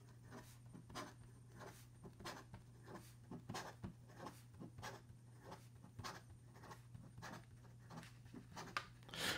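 An extra-fine Namiki Yukari Royale fountain pen writing quickly on paper, a quiet, rapid series of scratchy nib strokes in an uneven rhythm, heard close and alone.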